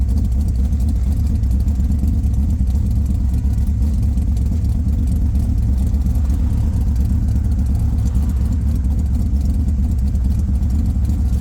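A Corvette C3 fitted with new mufflers drives along, its engine a steady low rumble heard from inside the car, continuous and fairly loud with no talk.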